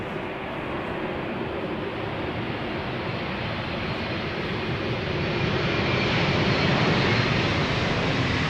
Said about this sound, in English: KLM 777-200 arriving from LAX